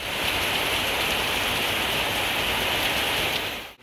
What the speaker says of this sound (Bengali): প্রবল বেগে বৃষ্টি হচ্ছে।